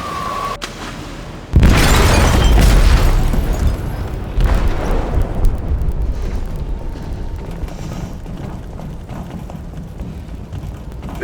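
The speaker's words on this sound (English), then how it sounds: "They detonated an explosive in the hold." An explosive detonates in a ship's hold in the video game Detroit Become Human: a sudden loud boom erupts, then a long rumbling roar with rattling debris and creaking metal that slowly fades, no voices.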